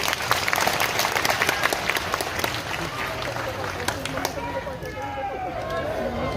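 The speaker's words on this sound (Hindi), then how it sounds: "एक बार ताली बजाओ" A large devotional crowd at an outdoor religious gathering in Gadha, Madhya Pradesh bursts into sustained, dense applause that thins slightly toward the end, with a voice carrying over the clapping.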